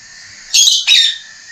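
Pet birds such as macaws give two sharp, loud squawking calls in quick succession, close by, over a faint steady high hum.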